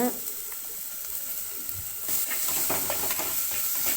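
Tomato, green chilli and onion sauté slowly over a low flame for a stingray fish curry, giving a steady soft sizzle with scattered crackles and light stirring scrapes, close and even throughout.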